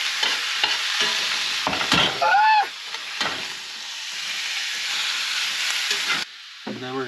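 Pork with onions and garlic being stirred around a hot pan, a steady loud sizzle of frying broken by scraping utensil strokes, with a brief voiced sound partway through and a quieter stretch near the end.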